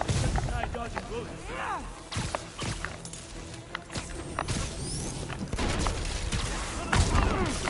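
Enemy gunfire in the Spider-Man PS5 game crackles in scattered bursts and thuds over busy combat noise, with whooshing swings and impacts mixed throughout, fairly loud and continuous.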